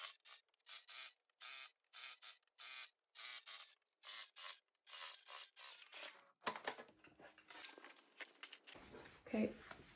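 A sewing machine with a zipper foot stitches a seam just under 1 cm wide in a run of short, evenly spaced mechanical bursts, followed by softer rustling and handling noise.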